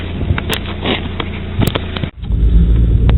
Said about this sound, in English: Let's take it for a spin.